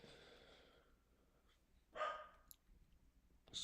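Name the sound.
dog barking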